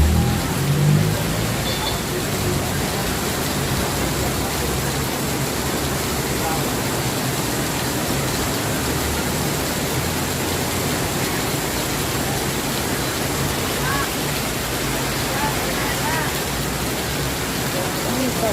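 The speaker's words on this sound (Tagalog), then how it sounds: "biglang buhos ng malakas na ulan dito sa may Bayani Road, Taguig City." Heavy rain pours down steadily on Bayani Road in Taguig City, a dense, constant hiss that is loud and unbroken throughout, with a faint voice at the very start.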